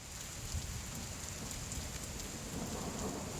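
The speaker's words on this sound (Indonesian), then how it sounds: "Belum lama mereka duduk, hujan tiba-tiba saja turun." A sudden downpour pours down as a dense, steady roar, with low rumbles of thunder rolling beneath the constant hiss of rain.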